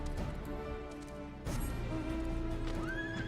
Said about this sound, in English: it's my other Fire Horse of Fire